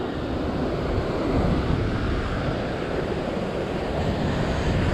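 Strong ocean waves surge against the rock shelf at Yellow Rock, Sydney, during a fishing trip. They form a loud, continuous roar of surf mixed with wind buffeting the microphone, with no voices over it.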